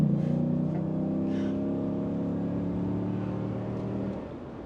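A Ram Power Wagon 2500 truck fitted with a K&N cold air intake drones steadily at a low, constant engine note from close by for about four seconds, then drops away.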